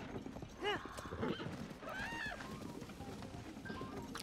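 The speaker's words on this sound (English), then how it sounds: "We're gonna take this horse." Horse hooves clip-clopping at a gallop in Zelda: Tears of the Kingdom, steady rhythmic footfalls with a whinny and game effects, heard beneath a speaking voice.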